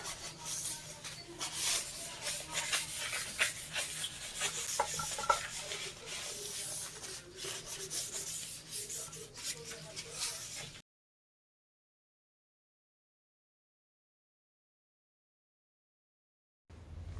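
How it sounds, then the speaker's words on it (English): A cloth rubs steadily across a waxed walnut and resin cutting board, wiping off the excess wax with a continuous close scuffing for about ten seconds before it falls silent, then resumes briefly at the very end. "So just gonna wipe off all the excess."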